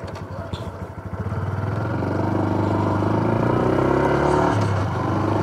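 Honda Super Cub motorcycle starting to ride off outdoors, small engine putters then rises into a steady droning rev that holds close and loud.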